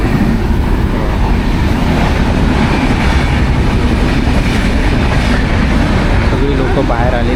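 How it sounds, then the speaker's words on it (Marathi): A train crosses at a railway signal, a loud continuous close rumble of rolling wagons with clattering wheels, and voices talk over it. "आय थिंक इथे गाडी क्रॉसिंग होते त्याच्यासाठी गाडी"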